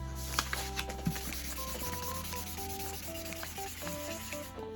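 A felt furniture pad, the fuzzy kind stuck under chair legs, rubs ink onto paper in a steady, close scrubbing texture with a few light taps near the start, over a faint background music bed.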